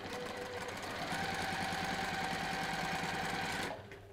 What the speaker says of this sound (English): So I'm just sewing these together into pairs.